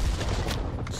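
Gunfire in the Call of Duty: Black Ops Cold War video game, a short burst of dense, booming shots blended with a noisy game backdrop, loud and continuous for about a second.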